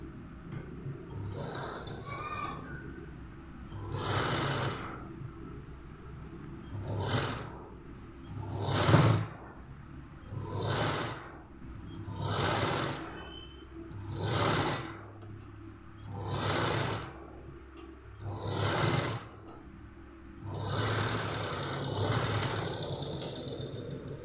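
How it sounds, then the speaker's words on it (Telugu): Sewing machine stitching thread piping onto a blouse, running in repeated short bursts with brief pauses between them, close and fairly loud with a whirring hum. "తర్వాత దీన్ని బ్లౌజ్కి ఇలా స్టిచ్ వేసుకోవాలి."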